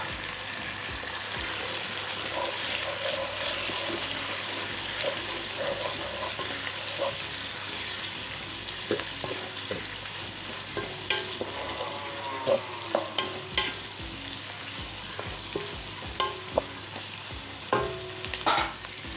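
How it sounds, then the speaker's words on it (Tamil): Onion, tomato and coconut sauté in oil in a pan for a traditional Tamil oil brinjal curry, giving a steady close sizzle throughout, with scraping stir strokes growing more frequent and louder in the second half; no one speaks. "இப்போ இந்த மாதிரி இந்த தக்காளி நல்லா கொஞ்சம் ஜூஸ் வச்சு வதங்கியாச்சு"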